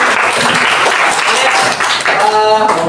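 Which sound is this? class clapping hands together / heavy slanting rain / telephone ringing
class clapping hands together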